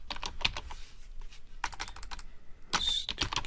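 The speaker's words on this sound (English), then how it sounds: "Stupid keyboard." Clicks from a computer keyboard come in short, uneven bursts of fast keystrokes separated by brief pauses, close and fairly quiet, with no talking.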